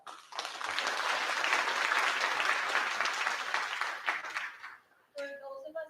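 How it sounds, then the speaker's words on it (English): Audience applause at a high school Arista honor society induction ceremony, a full burst of many hands clapping that swells and holds for about four seconds, then fades. A voice starts speaking right after. "Let's give them a round of applause."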